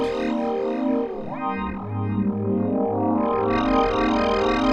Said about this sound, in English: it kind of gets gritty and grainy